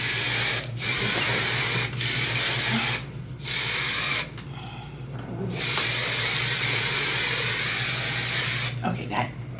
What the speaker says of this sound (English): Can never have too much spray.